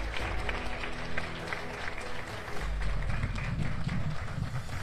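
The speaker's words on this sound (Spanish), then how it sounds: "Fuerte los aplausos" Crowd applause at a prize ceremony for a charity mega raffle in Guatemala, a dense steady clapping that holds throughout over a low background rumble.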